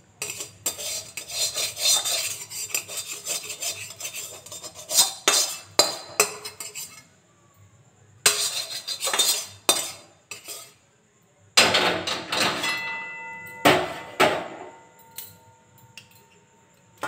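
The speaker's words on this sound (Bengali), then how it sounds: "সুজিটা ঠান্ডা করার জন্য থালাতে ঢেলে দিচ্ছি।" Cooked semolina is scraped out of a pan onto a plate with a metal spoon, in bursts of gritty scraping and clinking broken by short pauses, close and loud with no talking.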